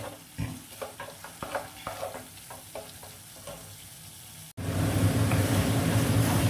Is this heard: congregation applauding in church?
no